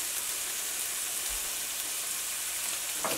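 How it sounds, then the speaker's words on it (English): A soft, continuous sizzle of onions, scallion and scotch bonnet frying in a pan, steady and close, with a faint clatter near the end. "gonna start by putting our onions, scallion, and scotch bonnet. And let that sizzle up a little bit."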